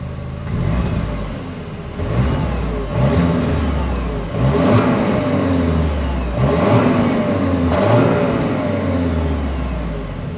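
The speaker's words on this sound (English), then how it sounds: "As always, here is that exhaust clip." The exhaust of a 2024 Volkswagen Atlas SUV revs up and settles back down about four times in a row. Each rise is loud and close with a rising engine whine, and no one talks.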